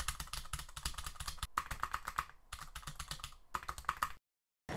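Rapid bursts of clicky computer-keyboard typing for a web search, close and fairly loud, in several quick runs separated by short pauses, with no talking.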